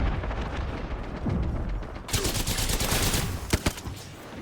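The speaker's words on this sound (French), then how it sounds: "Je me prends des balles de je ne sais où encore." Gunfire in the video game Apex Legends comes as a steady stream of rapid shots, with a few louder sharp bangs near the end, continuous and busy throughout.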